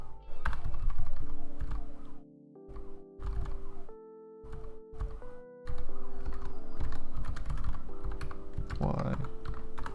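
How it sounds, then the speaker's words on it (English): Rapid typing on a computer keyboard while programming a Breakout game in C, close-up clatter of keys in bursts separated by short pauses, with someone talking intermittently over it. "Forgot how much typing there was in C."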